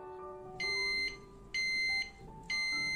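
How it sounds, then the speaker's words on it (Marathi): An electric rice cooker signals that pulao rice is ready with three loud, evenly spaced electronic beeps, each lasting about half a second, over a quiet room hum. "हे आता बीप साऊंड झालेला आहे म्हणजे आपलं हा राईस आहे तो इथे पूर्णपणे रेडी आहे।"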